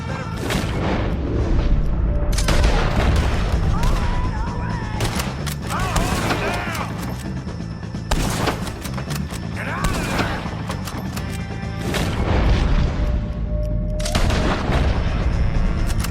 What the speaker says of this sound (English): Take a shot on these O'Driscolls!